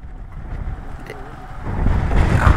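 Strong wind buffets the microphone with a continuous low roar that grows louder and rougher toward the end, heard outdoors on a road trip to Srinagar and Ladakh, with no clear talk.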